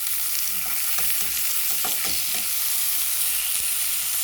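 Steak searing in a hot pan, a loud, steady sizzle and crackle of fat close up, with a few soft scrapes of movement in the pan and no talking.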